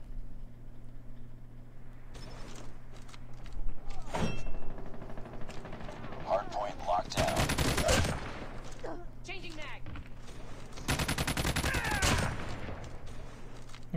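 Gunfire in the mobile shooter Call of Duty Mobile during a ranked match, with single sharp shots and two loud, dense automatic bursts close by, under a steady game hum, with a player talking at times.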